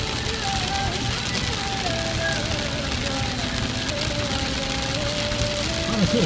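Steady rain falls in Rafha, Saudi Arabia, a dense continuous hiss spread across the whole clip, with faint tonal hums and a distant voice or engine murmur underneath.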